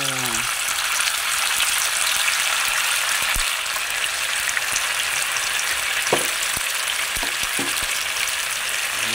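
Tofu frying in a hot kawali pan, a loud steady sizzle and crackle throughout, with a few clicks and knocks from the pan.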